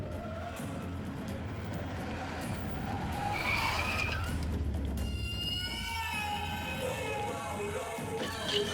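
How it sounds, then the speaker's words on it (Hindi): A vehicle arriving in a movie scene, loud tire screeching and skidding with engine roar over a busy, crowd-like background, followed by tonal film music. "सरकार की गाड़ी आ रही है।"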